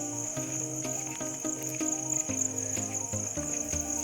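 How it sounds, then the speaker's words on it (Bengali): Crickets trill steadily through a night at a countryside stay, a continuous high, fairly faint chirping bed with a low background hum beneath and no voices. "কান পাতলেই শুধু ঝিঝি পোকার ডাক, আর মাঝে মাঝে কিছু অচেনা পশু পাখির ডাকও শুনতে পাচ্ছিলাম।"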